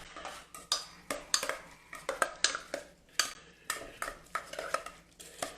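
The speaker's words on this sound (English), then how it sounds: "Grab a spoon. I'm going to start mixing." A spoon mixes panzanella salad in a bowl in quick, vigorous strokes, giving sharp clinking and scraping hits in an uneven rhythm, close by with no talk.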